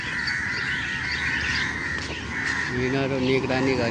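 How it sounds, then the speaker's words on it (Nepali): A large flock of crows crowds the utility poles at dusk, cawing harshly and overlapping one another in a steady outdoor chorus while a person talks nearby. "यहाँ कागको बथान हेर्नु पुरै भरेको"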